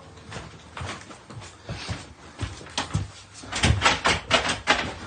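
Someone tries a locked door, rattling and thumping it in a quick run of knocks and clatters that grows louder toward the end.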